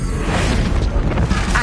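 Fiery Confringo spell blast in the video game Hogwarts Legacy: a dense, sustained roaring burst filling the whole moment, loud and close with no pause.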